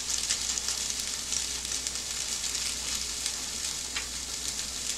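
A pot of instant noodle soup with soup powder added boils and sizzles steadily on a stove, a dense continuous bubbling hiss without talk.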